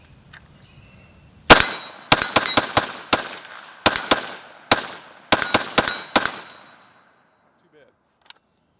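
A PSAK GF3 12.5-inch pistol with a muzzle brake fires about a dozen loud, sharp shots in fairly quick succession, each followed by a ringing decay. A single faint click follows after a pause.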